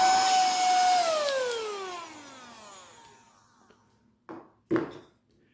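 A portable handheld vacuum cleaner's motor whines loudly, then spins down with a falling pitch after being switched off, followed by two quick clicks of handling near the end.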